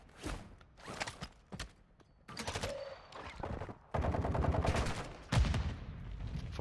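Gunfire in Call of Duty: Modern Warfare II, with sharp shots and rapid automatic bursts at varying distances, some near and loud, others sparser, mixed with scuffling movement and no clear speech.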